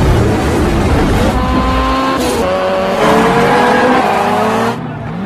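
Street race cars from The Fast and the Furious roar past with screaming engines, gear shifts and tire squeal in a dense, loud, action-movie mix.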